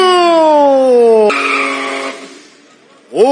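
Chevrolet Opala six-cylinder race car at a drag race start, engine roaring loud and close with rising pitch through one gear, a shift, then fading as it pulls away before another engine flares up near the end.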